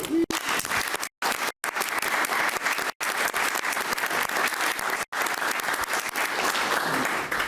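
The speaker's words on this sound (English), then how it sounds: "Round of applause, please." A round of applause at a city council meeting after a motion carries, steady clapping from a roomful of people broken by several brief dropouts, otherwise even and continuous.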